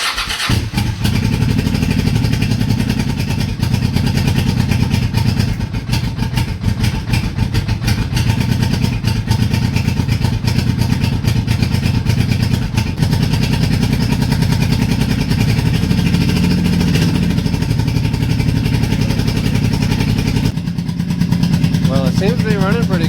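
After a cold start with new spark plugs and a little choke, a Honda Shadow motorcycle engine runs loudly and close, idling steadily with occasional revs.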